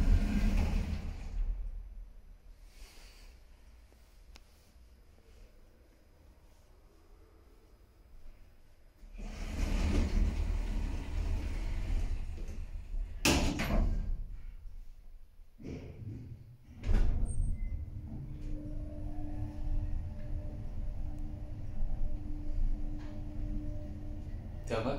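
A 1975 Haack elevator in Bochum Werne, modernised in 2022, brakes oddly: mechanical clunks and thuds, then a sustained low rumble of the moving car, with people talking at times.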